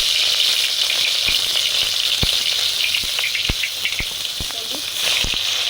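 Onion paste hits hot mustard oil with nigella seeds and dried chillies, giving a loud, close, continuous sizzle punctuated by sharp pops and spatters.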